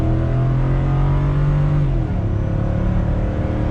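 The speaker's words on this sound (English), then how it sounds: "I'm gonna drop it down a few gears. One more gear, and punch it." Ford F-150 pickup built from a bare frame accelerating hard after a downshift, its engine roaring loud and close with a rising pitch that steps up at a gear change midway, with no talking.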